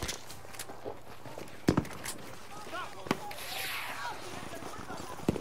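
Battlefield V burst-fire gunshots sound as a few sharp, separated cracks over a busy game soundscape, with a voice talking at times.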